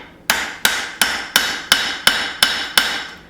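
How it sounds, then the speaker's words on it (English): Hammer blows striking a forged knife handle to work a taper into its rear, eight sharp metallic strikes at an even, steady rhythm, loud and close with no talking. "hammer in a taper to the rear of the handle"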